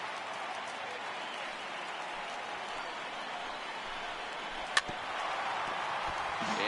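Steady roar of a large stadium crowd in a PS4 baseball video game, swelling as fans rise for a final-out strikeout, with one sharp crack near the end.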